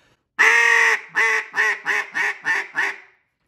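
A duck call blown as a greeting call gives a long opening quack followed by six shorter, evenly spaced quacks that descend in a rhythmic cadence, loud and close with no other sound.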